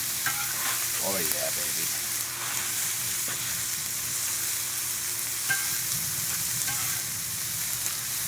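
Food sizzles and crackles steadily while being stirred over a chimenea barbecue, a loud continuous frying hiss with occasional scraping, and someone briefly speaks over it.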